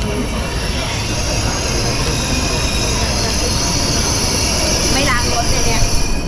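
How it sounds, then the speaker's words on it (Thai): Loud, steady rumble and roar of a high-speed train in motion with faint wheel squeals, heard from inside; continuous throughout with no clear pauses. "เราขึ้นรถไฟหัวจรวจรถไฟความเร็วสูงเราเนี่ย"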